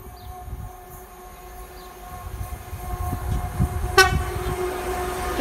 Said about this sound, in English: What a horn there from the driver of the class 66.